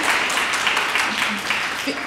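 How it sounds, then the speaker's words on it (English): Applause from an audience at a university orientation kick-off, a dense, fairly loud burst of many people clapping together for the whole stretch. "Yes, you can clap."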